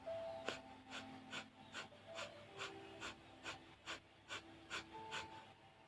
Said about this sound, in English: in Bhastrika breath, or breath of fire, we are rapidly inhaling and exhaling from the nose